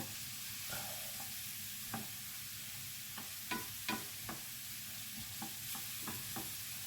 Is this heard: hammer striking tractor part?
no